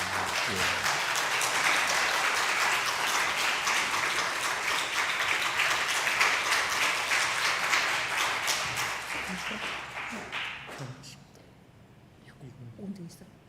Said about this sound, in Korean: 시간 나오실 때 뜨거운 박수로 우리가 환영하도록 하겠습니다